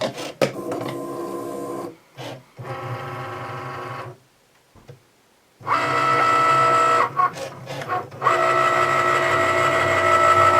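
A Cricut cutting machine cuts and scores card for a foiled anniversary card: a whirring, humming motor with rhythmic carriage movements, broken by brief pauses and one longer quiet stretch, close and loud.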